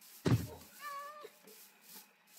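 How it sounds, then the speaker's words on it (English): A cat meows in the Minecraft video game, a single clear meow near the start followed by a shorter, softer tonal mew, with light game ambience and no talking. "there's a cat!"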